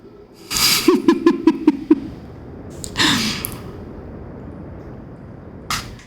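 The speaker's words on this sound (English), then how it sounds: "Can hear my own breathing again." Player character in Outer Wilds breathing: a few sharp, rhythmic breaths and gasps up close, followed by a quieter heavy exhale and another breath, set against near silence.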